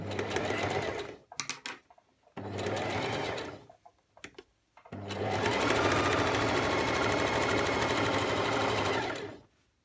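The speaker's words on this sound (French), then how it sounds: "Je suis toujours avec mon point overlock et on y va." An overlock sewing machine stitching a jersey knit neckline, loud close whirring runs: two short bursts, then a long steady run of several seconds, with brief pauses between.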